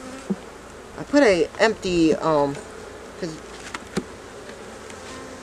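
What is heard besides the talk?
agitated honey bees during hive inspection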